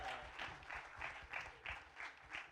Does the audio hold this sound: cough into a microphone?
no